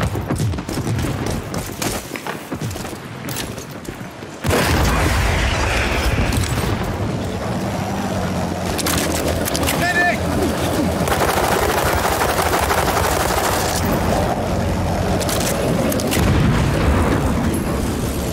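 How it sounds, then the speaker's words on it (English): Video game battle in World War 3 with an airstrike: a dense, loud wall of explosions, rumbling booms and rapid gunfire that jumps sharply in intensity partway through and stays sustained to the end, with no talking. "Friendly airstrike incoming."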